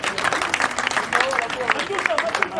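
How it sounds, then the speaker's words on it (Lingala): An audience claps and cheers at a Congolese political gathering, a ragged burst of applause mixed with crowd voices and a speaker talking over it, moderately close. "Acclamez vraiment très fort."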